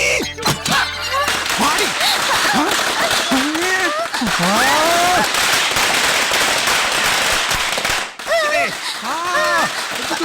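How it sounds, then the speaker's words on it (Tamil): Loud rapid crackling bursts of firecrackers going off continuously, with excited voices shouting and calling out over the popping. "அதுக்குள்ள பட்டாசு வெடிக்குது."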